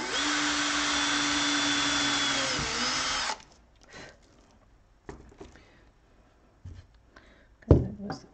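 A power drill bores a hole while a homemade soap cutter is being built, a loud steady whine for about three seconds that cuts off, followed by quiet handling clatter and a few sharp knocks.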